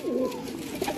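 Pigeons coo softly in a brief burst of low, rolling calls from a pigeon keeper's flock, close and moderately loud, with faint background noise.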